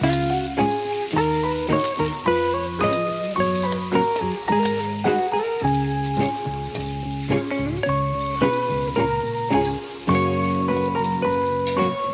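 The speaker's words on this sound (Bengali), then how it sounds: "এরপরে আমি ক্যাপসিকামগুলো ভেজে নিচ্ছি।" A steady sizzle of capsicum frying in oil runs throughout, close and fairly loud, under a prominent melodic music backing.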